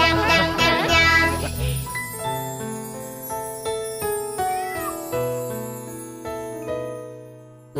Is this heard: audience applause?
no